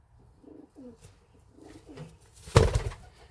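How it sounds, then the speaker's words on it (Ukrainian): Crimean crested pigeons give soft, low coos in short repeated phrases, with a sudden burst of wing flapping or handling noise near the end. "Дивіться, це голуби крими."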